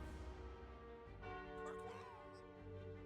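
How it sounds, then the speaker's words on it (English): A video game bell rings with a sustained, ringing metallic tone that lingers and slowly decays at moderate loudness, with faint voice-like sounds partway through. "That bell was a cool sound effect."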